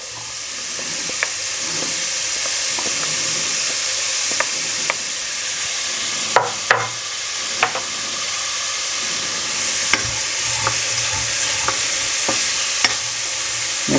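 Onions frying in a pan alongside seared pork, sizzling loudly and steadily, with a few sharp scrapes and taps of a spatula as they are stirred.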